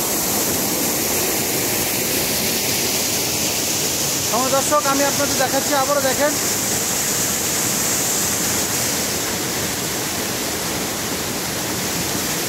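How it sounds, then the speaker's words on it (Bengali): A mountain stream rushes through hills toward a river, a steady, loud broadband roar of water that never lets up, with someone talking briefly over it midway. "দেখেন কি পরিমাণ জলস্রোত, এই স্রোতগুলো চলে যাচ্ছে নদীতে"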